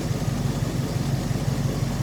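A Dodge Charger engine fitted with a new carburetor idles steadily at close range, its rumble low and even with a faint rhythmic pulse, no voices.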